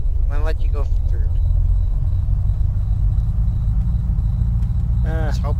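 A car engine in the survival game Unturned rumbles loud and steady throughout, a deep continuous drone, with brief voices at the start and end.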